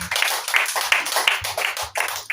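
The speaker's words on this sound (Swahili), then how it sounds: "Tumpigie Bwana Yesu makofi." A church congregation claps in unison for Jesus, a quick run of sharp, evenly spaced hand claps filling a room, close and loud with a faint voice underneath.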